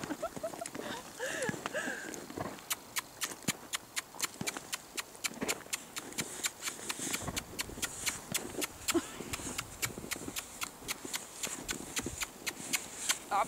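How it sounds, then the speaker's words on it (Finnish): Horse hooves clip-clop in a steady, fairly close rhythm during horse training, with sharp repeated hoof strikes over a busy background and occasional voices nearby. "Tätä on hevosen kouluttaminen."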